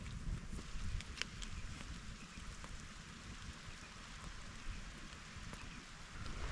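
Light rain drizzles outdoors in a faint, steady patter with scattered drops, quiet and continuous, no voices.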